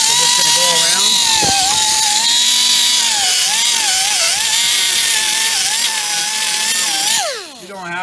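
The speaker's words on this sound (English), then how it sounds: "now I'm just gonna wipe it off or clean it up with the wire wheel" A power-driven wire wheel scours old gasket material off a 2007 Nissan Sentra 2.0 transmission pan, a loud sustained whine with wavering pitch that drops away at the end as the tool spins down.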